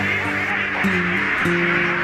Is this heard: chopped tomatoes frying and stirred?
no